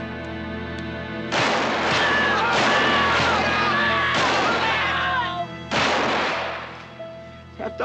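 Rifle shots fired over the heads of buffalo in a film, several loud sharp reports in uneven succession with ringing echoes, over quiet background.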